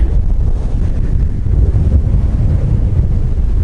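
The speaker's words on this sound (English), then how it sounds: "The wind is off the charts on the eastern side." Strong wind on the eastern side of the Cape York tip near Somerset roars continuously across the microphone, a heavy low buffeting rumble with no pauses and no voices.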